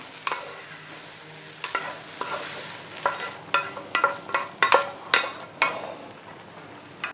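Onions and mushrooms cook over low heat in a pan for boeuf bourguignon. A spoon stirs and scrapes with scattered clicks that grow busier, over a soft, steady sizzle.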